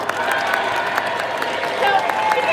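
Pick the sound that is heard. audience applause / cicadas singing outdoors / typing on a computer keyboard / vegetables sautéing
audience applause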